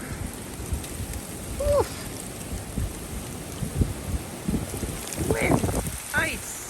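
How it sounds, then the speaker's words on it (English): Rain falls steadily outdoors in a winter storm in Minnesota, a constant wash of patter and gusts of wind noise. A few short voice sounds rise over it. "it's like a storm"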